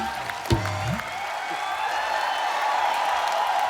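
Sustained studio audience applause on The Kapil Sharma Show, a dense, even roar of clapping that carries on after a brief voice at the start.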